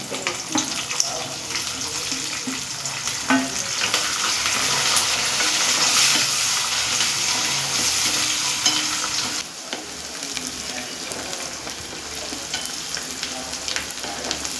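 Peanuts, sliced onions and green chillies frying in hot oil give a steady, close, broadband sizzle throughout, dipping slightly near the end, with no talk.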